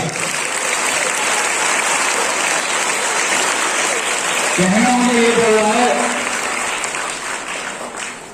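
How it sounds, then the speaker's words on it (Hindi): Loud, dense applause from a crowd honoring students at a Mother's Day school function at SDPD Public School, Anoopshahr, sustained throughout, with someone speaking over the clapping midway. "तो इनके लिए एक बार एक बहुत जोर से तालियां"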